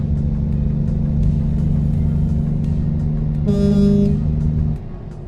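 Truck engine in American Truck Simulator, a loud steady low drone joined by a short bright horn toot near the end before the engine note falls away quieter.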